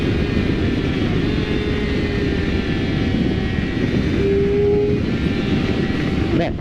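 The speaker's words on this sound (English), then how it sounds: "this engine just rips. Do you hear the sound of it? It sounds so good." A Kawasaki Ninja ZX-6R 600cc sport motorcycle engine on a street ride, a loud, continuous roar with a strong low rumble and a sustained engine tone rising in pitch near the end, heavy wind noise blended in.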